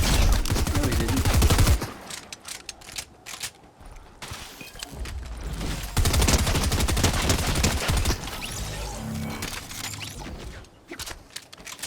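Loud bursts of rapid automatic fire from a purple compact SMG in Fortnite, with dense rattling volleys repeated several times and brief pauses between bursts.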